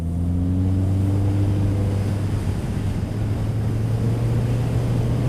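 A 2017 Honda CB650F four-cylinder engine lugs along in sixth gear at about 1200 rpm, a steady low droning hum heard close and continuous under rushing wind noise.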